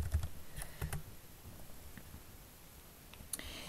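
Keys on a computer keyboard clatter in quick bursts as numbers are typed into a spreadsheet, a cluster of fast clicks at the start, then sparse taps and another burst near the end, close and fairly quiet.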